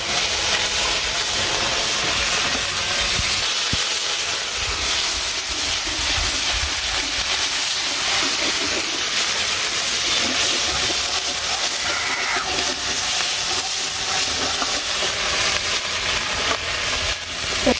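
Ginger-garlic and onion paste with green chillies fries in hot oil, giving a steady, fairly loud hiss that holds without a break from start to finish.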